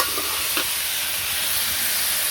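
Vegetables with turmeric, chili and salt fry in a pan, giving a steady, close, broad sizzling hiss with a couple of faint stirring scrapes near the start and no voices.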